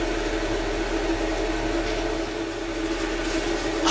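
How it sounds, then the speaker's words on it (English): A kitchen extractor fan hums steadily while a beer boils, a constant broadband whoosh with a low drone that holds unchanged throughout and carries no speech. "it's starting to get steamy here now, so I'm going to turn the extractor fan on"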